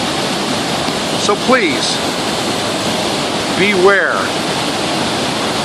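Ellison Creek Falls in flood during monsoon season, a loud, dense, unbroken roar of rushing water close by, with someone speaking briefly over it.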